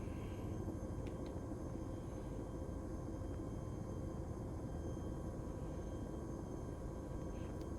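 A Chinook helicopter flying in the ArmA 3 video game, a constant dense rotor and engine roar that stays loud and even throughout, with only faint clicks on top.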